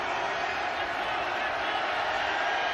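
A football stadium crowd at an XFL game between the St. Louis Battlehawks and Seattle Sea Dragons builds into a broad, dense roar ahead of a field goal attempt, with a commentator talking over it.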